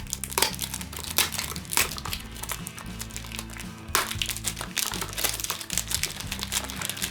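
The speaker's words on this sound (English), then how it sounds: "Cellophane seems to be of high quality." Cellophane wrapper on a Calvin Klein IN2U For Him fragrance box crinkles and crackles in close, dense bursts over a low steady hum, with sharper crackling spikes near the start and again around the middle.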